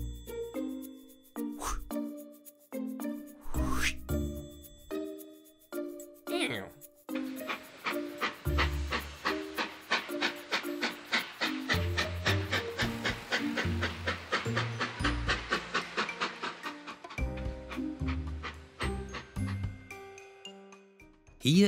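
A cartoon train rolling along in a children's learning show, with rhythmic chugging pulses and a bouncy musical sequence building under the clatter, mid-level and steady for about twenty seconds.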